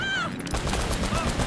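Rapid bursts of automatic machine-gun fire in Uncharted 1 Remastered on PS5 rattle continuously, loud and close, over a dense mix of game noise.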